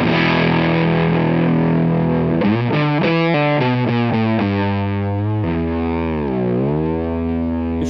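An electric guitar plays through a Facer fuzz pedal, alone and loud, with a thick, saturated tone as held chords give way to quick stepping notes and a sliding bend.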